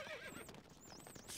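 Horse whinnying in the Stronghold Crusader strategy game, a brief, high, wavering neigh with rising and falling pitch over a soft background of game sounds and hooves, fairly quiet and without speech.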